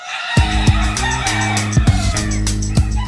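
Hens and chicks seized from a property in southwest Philadelphia, now at an animal shelter, crow and cluck loudly and close by, with repeated sharp crows standing out over a steady busy backdrop of fowl calls.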